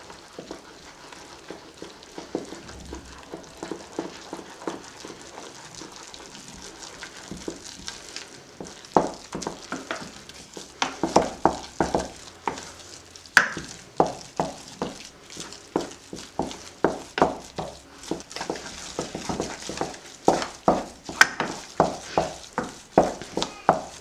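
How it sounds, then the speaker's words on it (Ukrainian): A wooden spatula stirs thick choux pastry dough in a pot with repeated soft thuds and scrapes, gradually becoming faster and more rhythmic, heard up close with no talking. "і гарно перемішуємо дерев'яною лопаткою"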